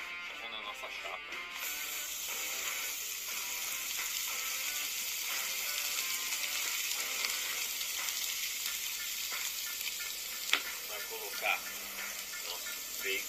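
Burger patty sizzling steadily on a hot griddle for a homemade mega burger, a dense continuous hiss with occasional pops and clinks, while a voice talks faintly underneath.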